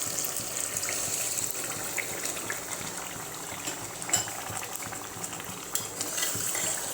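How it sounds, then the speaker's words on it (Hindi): A glass of water hisses and bubbles into a hot pan of frying spices for a vegetable handi curry, with a spoon stirring and scraping now and then, no talking. "तो 1 गिलास पानी मैं ऐड कर रही हूँ।"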